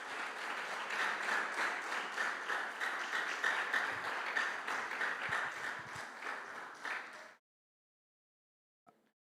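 A church congregation breaks into loud, sustained applause that fills the room for about seven seconds, then cuts off abruptly into silence, followed by one faint click.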